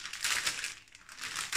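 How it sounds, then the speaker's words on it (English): A resealable plastic bag of puzzle pieces crinkles and rustles in short, close bursts, with a louder crackle at the end. "the pieces come in a plastic bag"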